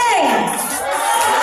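Live audience at a Pikachu dance show in a shopping mall cheers and screams loudly in a short burst, with high shrill voices mixing into a dense crowd roar.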